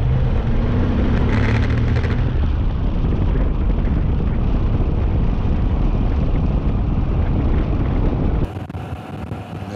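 A Moto Guzzi V85 TT with an Öhlins TTX46 rear shock ridden on the road, the rider in a Schuberth E1 helmet. Heavy, steady wind roar buffets over a low engine rumble, then drops noticeably quieter for the last second or so.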